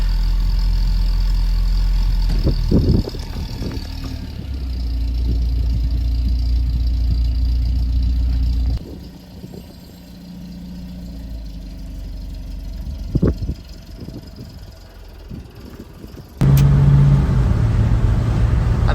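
Austin Allegro classic car engine idling with a steady low hum, dipping and changing as the cars are moved around, with a few knocks and clunks, then a louder, rougher engine note near the end.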